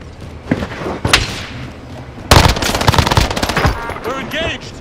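Automatic weapon fire crackles in Call of Duty: Warzone, a few sharp shots early followed by a loud sustained burst of rapid rounds, with game voice chatter around it.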